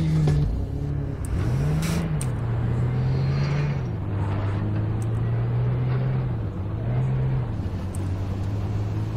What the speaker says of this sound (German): Okay, wir können fahren, hier ist nichts mehr.